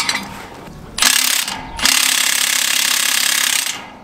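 Ratchet wrench turned on farm equipment, giving a fast, loud rattling ratchet buzz in two runs, a short one then a longer sustained one, close by with no talk.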